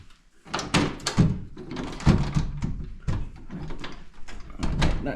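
A side door of an old abandoned ranch house in Arizona is tried and won't open, giving a string of rattling thumps and knocks over about five seconds, close and fairly loud, with no talk.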